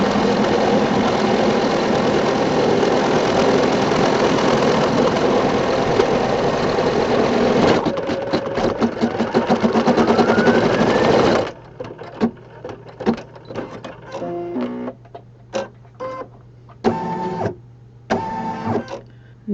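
A 4x4 machine embroidery unit stitches a St. Patrick's Day pot o' gold rainbow design, humming and chattering continuously before stopping partway, leaving short bursts of motor whirring and clicks.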